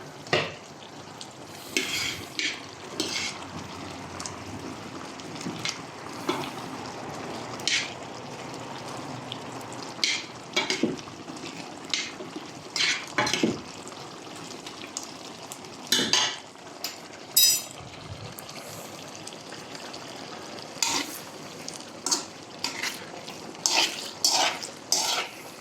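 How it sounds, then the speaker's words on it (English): A fish pickle paste for geelbek cooks in a pan, stirred with a utensil that scrapes and clinks against the metal in frequent sharp bursts over a steady low sizzle, close and fairly loud, with no talking. "And then we'll add the paste. While this is still cooking."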